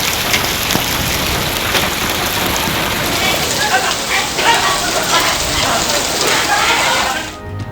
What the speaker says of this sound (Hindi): इस्लामाबाद और गिरदोनवा में बरसात।